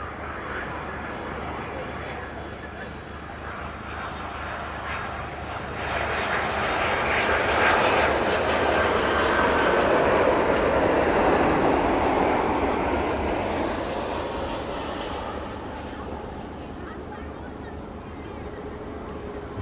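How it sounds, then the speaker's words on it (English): Passenger airplane touching down at East Midlands Airport, its jet roar swelling from a steady rumble to a loud broadband peak mid-clip, then easing off as it rolls out. "There we go, finally touching down into East Midlands."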